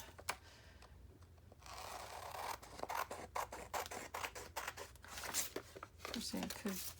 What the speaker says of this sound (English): Okay, bigger pair of scissors.